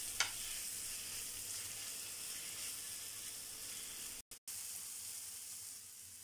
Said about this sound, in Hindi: और ये मैरिनेट किया हुआ मशरूम और पनीर, इन सबको अभी भून लेते हैं हम लोग